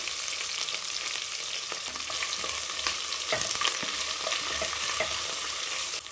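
Onions with green chillies and salt sauté in a pan for mushroom biryani, a dense, steady frying hiss up close with intermittent stirring scrapes and clicks.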